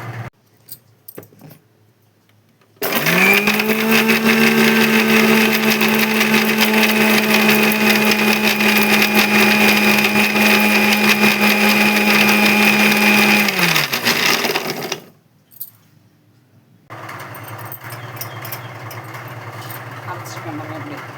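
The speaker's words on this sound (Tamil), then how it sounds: "போட்டு இப்போ மிக்சியில் அடிக்கணும்." An electric mixer grinder grinds dried copra coconut with chili powder for idli podi, a loud steady whirring whine held for about eleven seconds before cutting off, then quieter kitchen noise follows.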